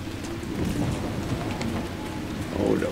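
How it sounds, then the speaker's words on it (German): A thunderstorm in Dragon Age Inquisition brings steady, heavy rain and a low rolling thunder rumble after a lightning strike, a dense continuous wash of sound, with a faint voice in the background. "da vorne hat der Blitz eingeschlagen"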